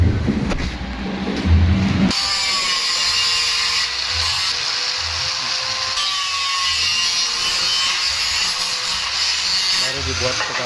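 A gypsum ceiling frame rail is cut, producing a continuous harsh, high metallic grinding that starts abruptly after a brief voice and runs loud and steady to the end.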